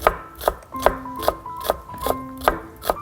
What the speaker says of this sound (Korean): 양파. 썰어주시는데 좀 곱게 썰을게요